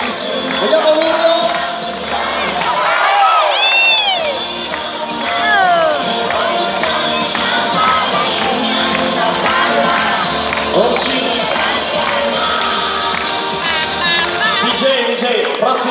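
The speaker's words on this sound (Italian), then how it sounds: "Vediamo l'urlo!" A large audience at an outdoor marine park show, a sea lion arena, shouts and cheers loudly and continuously with whoops and whistles rising above the roar, under dance music.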